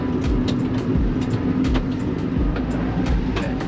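Honda Acty kei truck driving under steady engine drone, shifting up through first and second gear, with a constant low rumble and periodic faint clicks close by.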